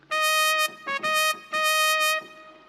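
A trumpet voice on a Yamaha Tyros keyboard with delay effect plays three bright, brassy phrases of sustained and short notes up close, ending in a fading tail, no voices.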